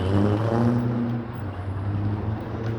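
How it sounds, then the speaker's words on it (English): A supercar drives along a downtown Toronto street on a Saturday evening, its engine a loud, steady droning whir with strong low tones that eases slightly in volume partway through. "There's some kind of supercar over there, but I'm not sure what it is."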